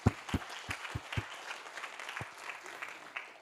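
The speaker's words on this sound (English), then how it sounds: "A big applaud for all three of them." Sparse, scattered clapping from a small conference audience after a talk: a handful of distinct claps at first, then a quieter, thinning patter.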